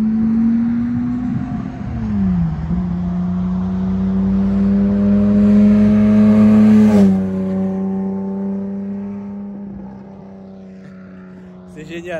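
An Aston Martin DBR1 race car drives past close by, its engine note rising then dropping as it goes by, loud and sustained before fading.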